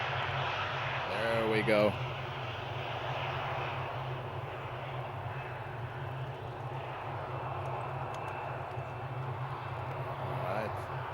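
An airliner takes off at Amsterdam Schiphol, a steady engine roar holding throughout at moderate distance, with a brief spoken voice near the start.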